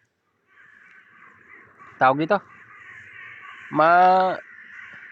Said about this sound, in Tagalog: marinig yung sa background natin, daming ibon